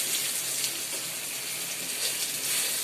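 Eggplant (brinjal) pieces fry in a pan with a steady, bright, hissing sizzle that holds at an even moderate level from start to finish, with no talking.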